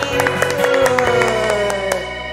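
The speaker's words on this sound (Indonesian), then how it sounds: "tepuk tangan untuk Tuhan" Children and adults at a church service clap for God in a short burst of scattered claps and cheers over lingering music tones, with some voices mixed in.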